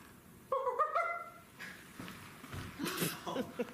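A dog sound plays right after a button is pressed, a short whining yelp with a few pitched cries near the start, followed by scattered vocal noises.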